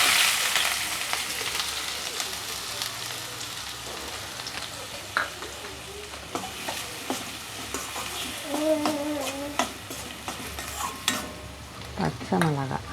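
Onions and green chillies sauté in a pan for tamarind onion thokku. Continuous sizzling runs under repeated scraping stirs, with a few sharper clatters toward the end; nobody speaks.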